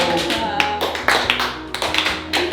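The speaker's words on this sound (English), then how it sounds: "Slow clap" A few slow, widely spaced hand claps in an office break in over people talking, each one a sharp single smack.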